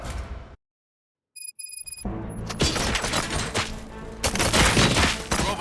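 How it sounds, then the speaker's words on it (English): After a brief silence and a few electronic beeps, a burst of rapid, loud gunfire erupts and continues in dense volleys of combat in the video game RoboCop: Rogue City. "Gunshots? What's going on?"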